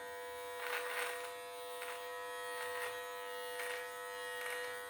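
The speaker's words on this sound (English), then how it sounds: "I want to take the number 3 guard, pop it back on, and take care of my mustache real quick" An electric beard trimmer fitted with a number 3 guard buzzes steadily while trimming a mustache, a close, continuous whine that swells in short bursts as strokes rake through the hair.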